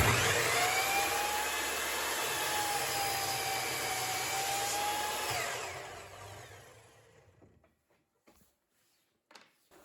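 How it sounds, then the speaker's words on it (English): A Bosch miter saw cuts through oak using only its stock dust collection, giving a loud, steady whining roar for about five seconds that then winds down and fades to near quiet, with a few faint clicks afterward. "I cut the oak on this on this miter saw"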